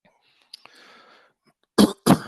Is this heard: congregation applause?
no